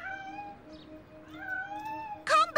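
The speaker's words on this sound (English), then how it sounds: "Come back here, kitty." A cartoon cat meows several times, with drawn-out tonal cries and then a louder, sharper yowl at the end, against a quiet background.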